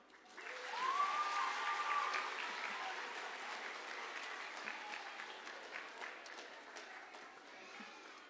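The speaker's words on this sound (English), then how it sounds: "Can we please get another round of applause for Ireland?" A school audience applauds Ireland's turn at a multicultural celebration: a sustained wash of many hands clapping, swelling within the first second and holding steady at a moderate level, with a brief tonal whistle near the start.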